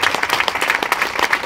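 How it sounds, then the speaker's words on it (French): Audience clapping at a youth council ceremony for Bastille Day (14 July 2021) in France, a brief burst of scattered, fairly sparse claps from a modest crowd lasting about a second and a half. "Vous pouvez les applaudir."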